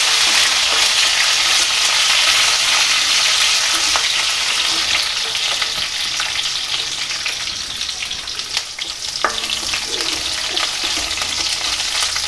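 Curry leaves and green chillies hitting hot oil give a loud, continuous close-up sizzle and crackle that holds steady, with an occasional faint clink of stirring.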